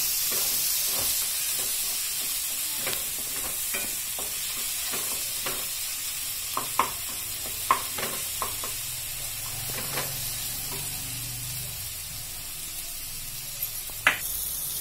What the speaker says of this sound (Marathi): हे सगळं चांगलं परतून घेऊ.